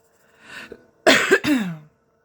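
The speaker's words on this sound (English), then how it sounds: "I got a cough." A short throaty cough burst, preceded by a softer breathy rasp; close and fairly loud, with no talking.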